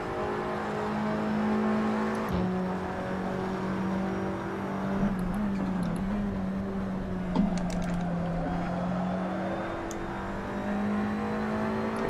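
Race car engine in a racing video game, an Audi TT cup car at Watkins Glen, droning steadily at high revs throughout, pitch dipping and climbing as it shifts and accelerates, loud and continuous with no talk.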